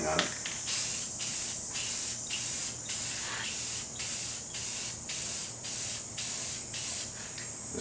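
A spray gun lays down a second coat of clear coat in steady, evenly spaced hissing passes, each burst lasting about half a second with brief gaps between them, close and fairly loud.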